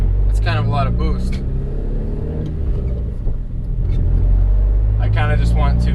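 A turbocharged Honda Accord pulls hard in fourth gear, its engine rumble loud and sustained throughout with rising revs, while someone talks over it at several points.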